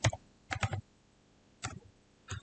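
Computer keyboard typing in short bursts of clicky keystrokes, three or four quick clusters separated by pauses, fairly close and clear with no talking, as data values are entered during a computer science lesson.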